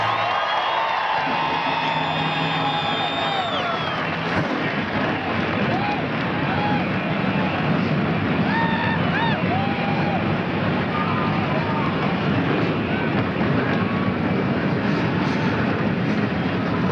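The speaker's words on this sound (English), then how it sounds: "Gentlemen, start your engines." Stock race car engines fire up together on the grid at Watkins Glen, a dense, loud, continuous roar of many motors with revving swells over crowd noise, while a voice speaks over the start.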